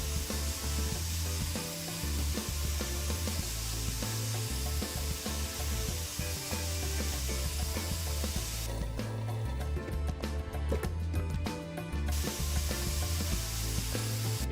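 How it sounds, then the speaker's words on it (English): Paint sprays continuously from a nozzle in a video game, a steady broad hiss that runs the whole time with a low rhythmic pulsing underneath and no talk. "Look at the amount of spray coming up."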